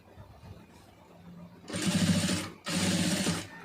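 A sewing machine runs in two steady bursts stitching piping onto fabric, its rapid needle clatter loud and close, with quiet handling sounds before the first run.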